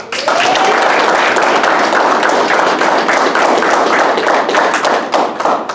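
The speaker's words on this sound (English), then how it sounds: "let's give them a round of applause" Loud, dense applause from a large crowd at a graduation ceremony, sustained steadily for several seconds with no voices over it.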